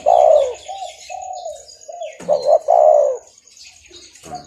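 Trained singing doves coo in loud, close, rounded phrases, a series of mellow notes with short pauses between them and a final call starting at the end.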